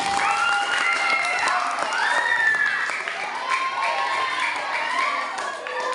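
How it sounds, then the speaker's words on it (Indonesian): Audience applause at a Ramadan Quran study session at an Islamic boarding school, a steady wash of clapping that runs the whole time, with voices and cheering carrying over it. "tepuk tangan buat Mas Adi"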